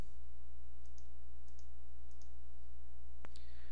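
A computer mouse button clicks three times in quick, faint pairs over a steady electrical hum while working in Photoshop, followed by one sharper, louder click near the end.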